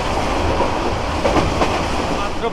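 Steady rumble and rattle of a Balaka Commuter train moving at about 60–65 km/h between Dhaka and Mymensingh, continuous broadband noise with faint rhythmic clatter, heard from inside the carriage.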